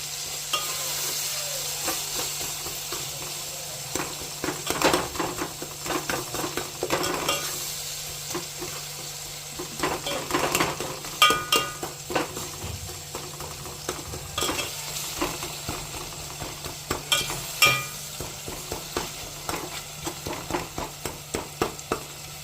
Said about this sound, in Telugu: ఇప్పుడైతే మిక్సింగ్ చేసేసుకోవాలి